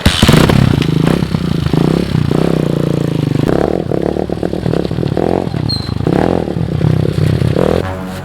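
A motorcycle engine drones steadily up close, with clattering and scraping rattles over it and loud wind-like rumble throughout.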